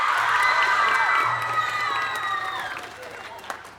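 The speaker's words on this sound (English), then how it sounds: "you got to cheer just as loudly for them" A concert audience cheers, whoops and shouts for 7th grade band students at a school spring band concert. The sound is loud and dense at first and fades gradually over a few seconds.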